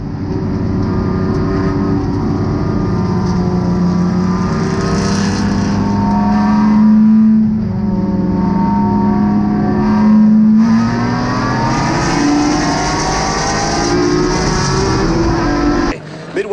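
GridLife GT race cars at Gingerman Raceway running three abreast toward turn 1, their engines blending into a loud, continuous roar with rising and falling pitch as they accelerate and shift, no pauses throughout.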